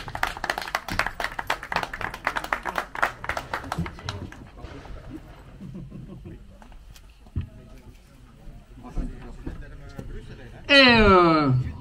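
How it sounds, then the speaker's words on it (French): A few seconds of brisk clapping from a small group, fading into people talking, then a loud rising electronic whine at the end. "applaudissements."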